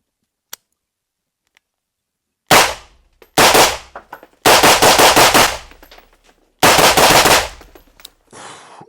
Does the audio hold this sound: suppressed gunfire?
yes